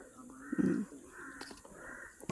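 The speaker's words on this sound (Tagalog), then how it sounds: "Yan ang mga ibon na talagang malayang nakakalipad." Crows calling over open farmland near town, a loud caw around the middle and fainter calls through the rest, with a speaking voice in the background.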